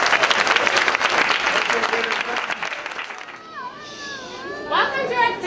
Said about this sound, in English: Let's give our second graders a huge round of applause.